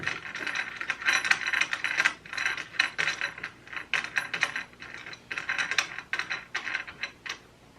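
Wing nuts on a Techsew 2750 Pro sewing machine are tightened one after another, giving bursts of close metallic ratcheting clicks and rattles in an uneven rhythm, with no talking.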